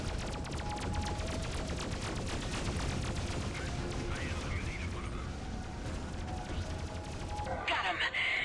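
Sustained gunfire from a space-combat battle in the video game Freelancer, a dense rapid stream of shots and blasts over a low rumble, with a brief burst of something different near the end.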